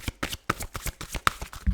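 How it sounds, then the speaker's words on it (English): Tarot cards are shuffled by hand in quick, uneven riffling bursts, close and fairly loud, with no speech over them. "I don't know how to shuffle anymore."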